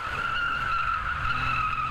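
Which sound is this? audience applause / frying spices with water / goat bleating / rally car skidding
rally car skidding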